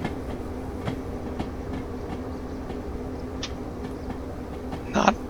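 A train rolls on rails in the simulation game Derail Valley, with a low steady rumble, faint rhythmic wheel clicks and a brief sharp screech at the end, heard at moderate distance without speech.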